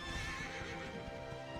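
A horse galloping in the video game Dragon Quest XI S, with quick rhythmic hoofbeats and a whinny over a dense layer of music and game sound.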